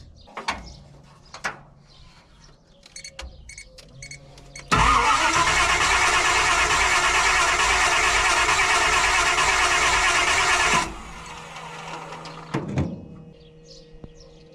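Electric fuel pump powered straight from the battery on a Nissan S15: a loud, steady electric whir starts abruptly, runs for about six seconds, then cuts off, with quieter clicks and bumps before and after.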